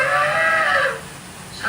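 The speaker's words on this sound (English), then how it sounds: "a huge bull elephant bellows forth in protest of our intrusion" Animatronic bull elephant bellowing on Disney's Magic Kingdom Jungle Cruise ride, a single loud, brassy, trumpeting bellow lasting about a second before fading into quiet background.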